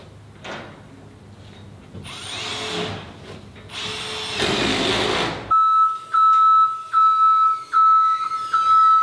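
Power drill whirring in several bursts close by, followed by a run of short, evenly spaced high-pitched whines or beeps as the tool pulses on and off, on a garage addition build site with galvanized wall steel.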